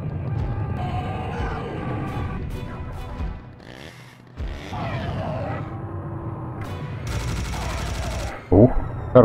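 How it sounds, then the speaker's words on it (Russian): Video game combat in Serious Sam: Bright Island, a dense barrage of gunfire and blasts with rumbling low booms, a brief lull midway, then continuous loud shooting ending in sharp impacts. "Хороший был взрыв."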